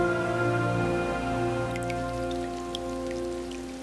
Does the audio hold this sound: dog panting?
no